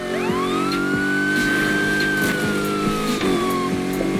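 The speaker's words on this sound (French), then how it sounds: "On arrête la sirène." A police siren wails in The Crew Motorfest video game. A loud rising and falling tone sweeps over a constant engine drone, with repeated short clicks underneath.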